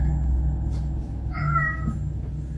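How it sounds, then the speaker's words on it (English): A house cat meows once, a clear, drawn-out call rising over a steady low indoor rumble, with no talking. "My cat just keeps walking around meowing"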